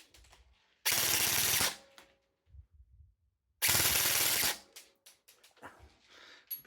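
A Double Bell 803B SCAR L toy rifle fires two full-auto bursts, each under a second of rapid, rattling shots. Both are loud and close, separated by a quiet gap with faint handling clicks.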